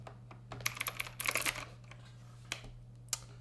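Fast clattering keystrokes on a typewriter-style keyboard, close and fairly quiet, bunched into a quick burst and then a few scattered taps over a steady low hum.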